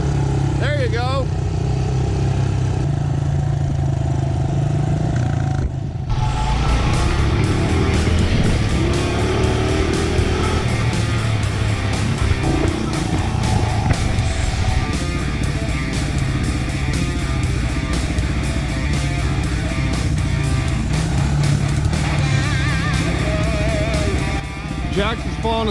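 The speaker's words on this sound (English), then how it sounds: "Rev it some more. It wants to be revved." Fuel-injected Honda CRF110 pit bike engine revs continuously as a motor drone that rises and falls, loud and close throughout, with people talking over it.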